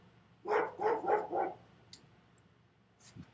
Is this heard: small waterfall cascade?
no